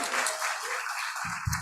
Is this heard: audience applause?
yes